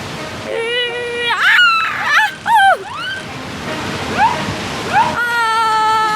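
Large waves splash and surge against a small boat in an animated scene, with a steady wash of water under lively cartoon voices talking.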